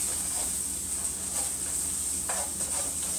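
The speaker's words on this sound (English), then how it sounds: "we'll kind of stir and get that olive oil all up in those mushrooms and get everything kind of cooking in here" Thawed golden chanterelle mushrooms sizzle steadily in olive oil in a pan while a wooden spoon stirs them, with soft scraping strokes over a constant close frying hiss.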